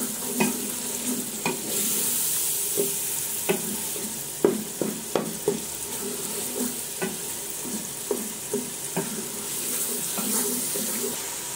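Dal being stirred and fried in a pan while making kaddu dal, with repeated spoon scrapes and clinks in an irregular rhythm over a steady soft sizzle, close and moderately loud, no talking.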